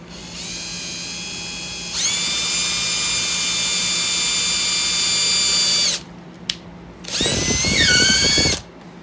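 A power drill whines loudly at close range in two long bursts while drilling through model railway track, speeding up and slowing down, with a short quiet gap between them.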